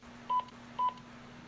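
A hotel room phone's keypad sends two short dialing tones, evenly spaced about half a second apart, clear and moderately close over a faint steady background hum.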